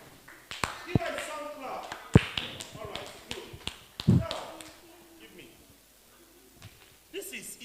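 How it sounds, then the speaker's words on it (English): A group at an Igbo summer camp gives a child a round of applause, a few short, scattered claps and taps close by, with voices around them and quieter pauses between bursts. "Give her a sound clap."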